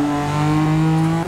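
Loud in-game BMW M4 convertible with a 600hp manual gunshot exhaust tune, engine held at a high, steady buzzing rev for about a second before dropping off, close and alone.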